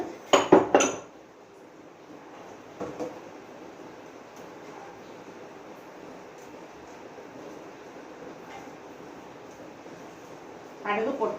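Mustard seeds go into hot oil in a pan for a prawn chili curry. A few metal clanks come first, then a steady, moderate sizzling hiss, and more clatter follows at the end.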